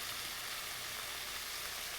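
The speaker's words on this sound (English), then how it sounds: "This gets sauteed this way" Garlic chicken spiced with salt and paprika sautéing in a pan, a soft, even sizzle that holds steady and fairly quiet throughout, with no talk.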